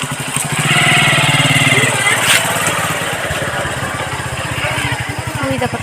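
A motorcycle engine runs steadily close by as the bike is parked at a relative's house, a continuous throbbing drone with people talking over it.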